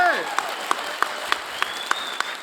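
Audience applause at a live comedy show, heard as evenly spaced crisp claps in a steady rhythm under a voice talking over it.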